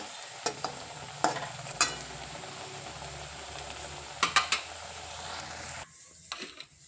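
Coriander vadi fried in a pan in a home kitchen, a soft steady sizzle of oil broken by sharp scrapes and clinks of a utensil, ending with a few quieter taps as the frying noise drops away.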